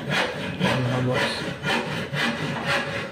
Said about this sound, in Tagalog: Medyo mahirap kasi maglagari-lagari.